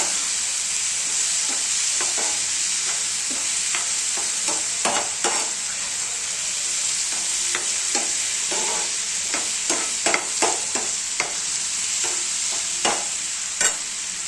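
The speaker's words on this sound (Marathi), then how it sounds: "टोमॅटो चांगलं शिजवून दिला ना तर चटणी पण छान होते." Tomatoes for chutney, seasoned with a pinch of cumin powder, cook in a pan, giving a steady sizzle throughout with repeated spoon strokes and scrapes as they are stirred. No voices.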